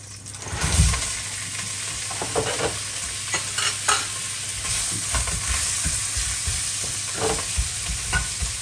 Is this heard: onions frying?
yes